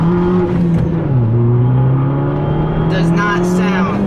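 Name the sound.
small car engine revving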